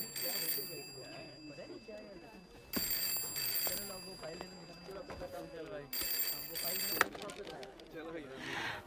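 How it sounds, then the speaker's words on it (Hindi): A telephone rings in repeated bursts in an office, three clear rings spaced a few seconds apart, with people talking in between and underneath. "फोन बज रहा है तुम्हारा,"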